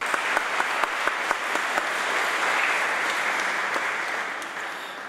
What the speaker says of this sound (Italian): vuole essere un applauso di incoraggiamento, di consolazione, di pace